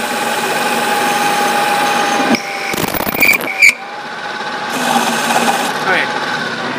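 A home lathe spins a workpiece for friction welding under pressure, giving a steady, loud mechanical hum. Short scraping bursts and a sharp knock break in partway through.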